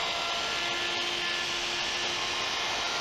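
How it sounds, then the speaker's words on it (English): A wood router flattens the bottom surfaces and chamfers the lip of a reclaimed wood plinth, giving a loud, steady, high-pitched whine that runs without a break. "Then it was back to the router to flatten the bottom surfaces and chamfer the lip."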